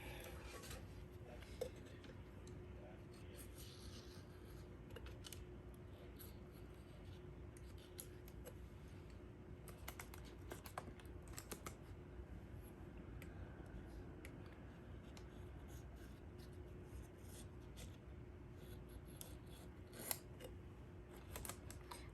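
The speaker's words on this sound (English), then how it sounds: "I get my razor or box cutter and I trim off this excess, and I also cut the hole in the center there" Razor or box cutter trimming excess material around a wooden cutting board being prepped for paint and epoxy resin, giving faint scattered clicks and snips over a steady low hum, close and quiet with no talk.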